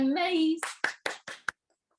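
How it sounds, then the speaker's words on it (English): One person claps their hands four times at a steady pace, sharp and close, right after a sustained sung or spoken tone, during an online co-op culture webinar, then silence. "that's me clapping"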